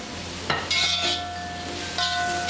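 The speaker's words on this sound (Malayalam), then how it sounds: "ഫ്രൈ ചെയ്ത് വെച്ചിരിക്കുന്ന ചിക്കനും ജിഞ്ചറും ഇതിലേക്ക് ചേർത്ത് നന്നായിട്ട് മിക്സ് ചെയ്ത് യോജിപ്പിക്കാം." A utensil stirs fried chicken and ginger in a hot pan. Soft scrapes and clinks sit over a low, steady sizzle, close up with no voices.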